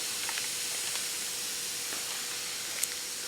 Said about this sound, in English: a spray gun that actually sprays, a hopper that sprays fiberglass.